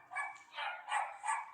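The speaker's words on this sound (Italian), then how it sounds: "E Tania, quando hai il cane che abbaia, tesoro, devi chiudere un attimo il microfon" A dog barking from a nearby house somewhere in the Veneto countryside, four rough barks in a steady rhythm, at middle distance and fairly faint, with no voices over it.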